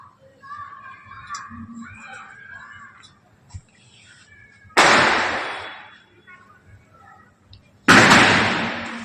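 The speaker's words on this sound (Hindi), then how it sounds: "अब ये पटाखे फूट रहे हैं" Two sharp, loud firecracker bursts, each a sudden broadband crack with a short decaying tail, set several seconds apart amid faint background voices and ambient noise.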